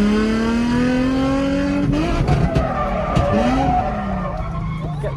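Nissan Z drift car sliding with a loud, sustained tire squeal that wavers in pitch as the car swings, its engine droning underneath at close range.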